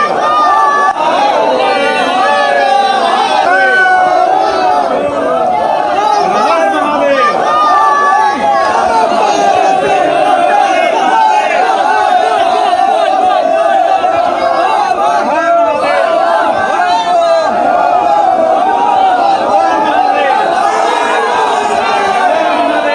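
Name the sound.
large crowd of devotees at a temple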